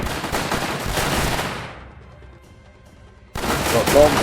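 Rapid gunfire and explosions rattle in a tower defense video game, a dense burst of shots that fades to near quiet before another loud volley erupts at the end.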